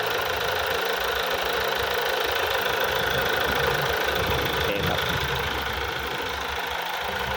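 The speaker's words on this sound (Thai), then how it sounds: "ต้องรันทิ้งไว้ ต้องเล่นเครื่องนะครับ" A Mazda2 Skyactiv-D diesel engine idles steadily, a close, constant clattering rumble with a faint knocking rhythm and broad hiss, unbroken for the whole stretch.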